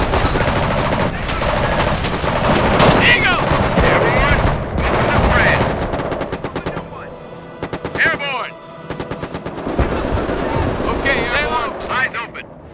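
Machine gun bursts and scattered rifle shots from a Company of Heroes battle, Airborne doctrine, rattling in dense volleys and brief pauses across the whole stretch, with shouted soldier voice lines cutting in over the gunfire.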